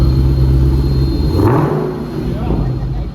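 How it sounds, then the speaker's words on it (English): A Dodge Challenger Hellcat gives a deep, steady engine rumble close by, with one brief louder surge partway through and voices talking nearby. "Hey, rev it a little."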